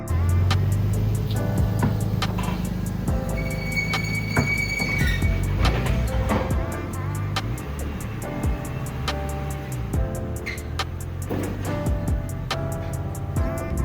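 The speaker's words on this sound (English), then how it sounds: "gonna chuck it up on the dyno, give it a ramp, see what it makes" A Ford BA car engine runs on a dyno, making a loud, steady mechanical drone with whining, squealing tones throughout, close and continuous for the whole stretch.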